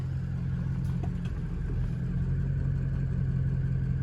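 A Ford 6.0 Powerstroke diesel engine idles steadily at around 600 RPM, giving a continuous low rumble with a constant tone, close by and alone without speech.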